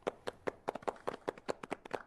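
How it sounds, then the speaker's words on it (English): Synthesized studio audience clapping in the NBA 2K19 basketball video game halftime show, a quick run of light, close hand claps at an even rhythm, fairly quiet, with no talk. "Please, a hand at home for them."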